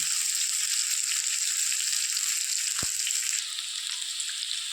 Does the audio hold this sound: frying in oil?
yes